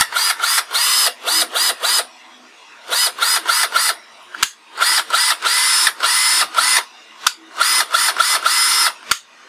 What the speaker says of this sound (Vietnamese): Với cả con vít ở đây thì dòng nó nhỏ hơn, cho nên là chắc chắn thì nó sẽ chạy còn tốt hơn.